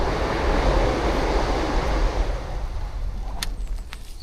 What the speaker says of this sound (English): May hear a train about to come by.